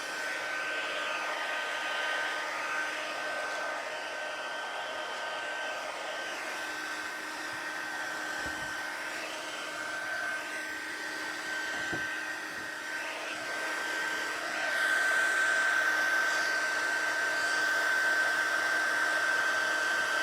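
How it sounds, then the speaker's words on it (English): A heat gun runs steadily throughout, a constant close blowing whir with a faint high tonal whine, growing slightly louder toward the end; used for embossing on a paper craft kit. "close this up before I start the heat gun."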